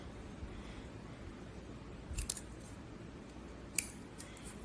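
Scissors snip the cord ends of a model horse lasso: two quiet close cuts, one a short double snip and a single crisp one later, over a faint room hush.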